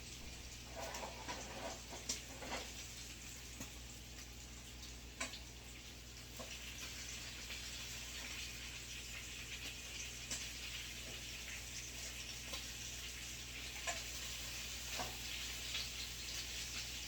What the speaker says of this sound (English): now I'm about to flip my bacon over